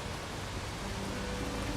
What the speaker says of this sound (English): This is not a good time for rain.